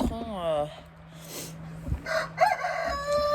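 A rooster crows near the start among chickens let out into a hen run, followed by scattered clucks and calls as the flock moves about.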